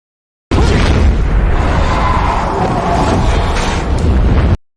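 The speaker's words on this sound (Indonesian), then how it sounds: "tidak lama kemudian, tangki meledak" A fuel tank explodes in a loud, sustained roaring blast that rumbles heavily for several seconds, then cuts off abruptly.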